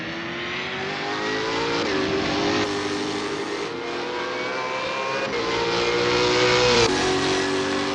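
A V8 Supercar in Assetto Corsa, racing at Simmons Plains, roars around the track with a sustained high engine whine, its pitch rising and dropping sharply through several gear shifts, loud and steady throughout.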